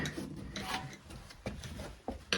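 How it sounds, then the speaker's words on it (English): Tin snips chewing through a plastic toilet flange in a few rough, rasping cuts, with close scraping and crunching and a couple of sharp snaps of the blades. "Cut it with a tin snip."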